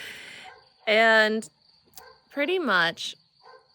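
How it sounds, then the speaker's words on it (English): Rescue dogs on a farm bark in two loud bursts of yipping, whimpering barks, alone between stretches of a quiet speaking voice. "Also, excuse the dogs, many rescue dogs on the farm."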